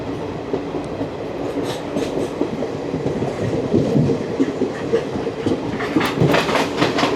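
The 22953 Gujarat Superfast Express running between Vadodara and Ahmedabad, heard from inside an AC chair car as a steady rumbling roar with rhythmic clickety-clack of wheels over rail joints.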